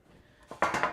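Hot metal baking pans clank and scrape as they are handled and slid back into a home kitchen oven, a few close, sharp knocks building in the final half second with no talking.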